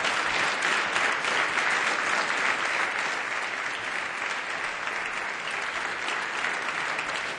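Sustained, even applause from an audience at the final of a youth debating tournament, a dense roomful of hands clapping steadily without letup.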